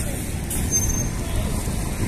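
Bus engines idling and revving in a Sumatra bus convoy as it departs, with steady low rumble, traffic noise and a brief hiss of air brakes; voices are heard faintly underneath.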